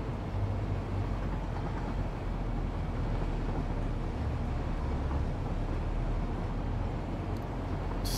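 A train rolls along in Satisfactory, a steady low rumble and rattle running the whole time with no talk.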